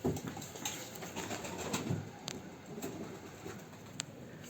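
Soft cooing of homing pigeons in a coop, with a few sharper clicks and rustles, fairly quiet and close.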